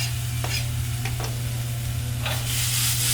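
Green beans sizzle steadily in a hot pan while being stirred for chicken picadillo, with a few soft scrapes of the utensil over a constant frying hiss and a low hum beneath.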